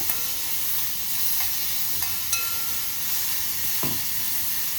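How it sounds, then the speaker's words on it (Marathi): Ground green chillies frying in hot oil, a steady loud sizzle with a few faint scrapes of stirring, no voices. "आता मिरची आपण तेलात परतून घेणार आहोत."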